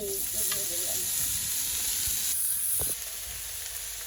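Leafy greens tipped into a pan of lightly fried onions, giving a steady close sizzle with a brief stir clatter near the end and faint background noise.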